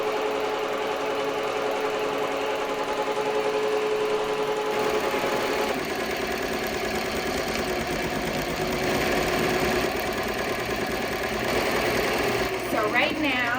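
A Ricoma embroidery machine runs a placement stitch for an appliqué design on a T-shirt, giving a fast, steady mechanical whir and rapid needle chatter, with a voice talking over parts of it.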